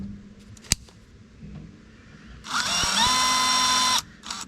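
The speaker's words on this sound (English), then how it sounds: "So I'll drill these in." A power drill drives screws into the leg of a live-edge wooden bench; a short high motor whine runs for about a second and a half after a few small knocks and clicks, close and alone.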